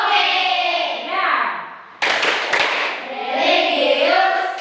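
A classroom of children performs a rhythmic PPK clap, a short burst of sharp hand claps in the middle with group chanting voices before and after.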